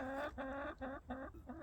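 Hens in their coop cluck in five or six short, close bursts with brief gaps between them, plainly loud and near, with no talking.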